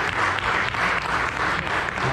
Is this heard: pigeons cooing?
no